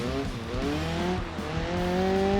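A car slides through a drift in BeamNG, its tires giving a sustained, rising squeal over a steady engine drone. The sound is loud and continuous, with no talk over it.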